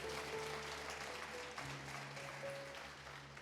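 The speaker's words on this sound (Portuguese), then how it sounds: "Dê um aplauso a Ele com alegria" Church congregation at a New Year's Eve service applauds faintly, a distant wash of clapping blended with steady low organ-like sustained tones, no voices over it.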